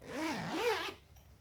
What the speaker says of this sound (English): it has a heavy duty zipper on the outside